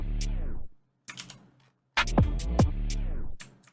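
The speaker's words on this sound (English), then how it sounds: "The tape stop effect that I did on the beat was around here" Tape stop effect on a UK drill beat: chopped bursts of beat with hi-hat ticks and sliding low tones, stuttering and cutting out in short gaps, loud and close with no voices.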